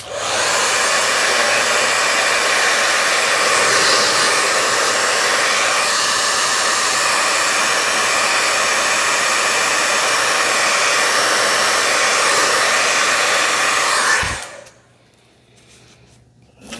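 Hair dryer blowing over a small 5x7 watercolor painting, a loud, steady whooshing roar held for about fourteen seconds before it switches off into near quiet.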